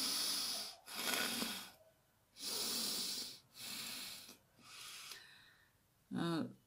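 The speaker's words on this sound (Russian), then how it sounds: "Слушайте, как дышит нос." Several loud, hissing breaths in and out through the nose seven days after nose surgery, close up, with a short snorting sniff at the end.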